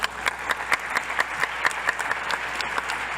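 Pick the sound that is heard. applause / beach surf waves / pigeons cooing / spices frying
applause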